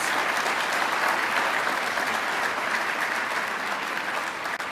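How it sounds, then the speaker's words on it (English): A large audience at a Sacramento State of the City address applauds elected officials, with sustained, dense, loud clapping continuing steadily throughout and no break. "Let's give all of our elected officials a round of applause."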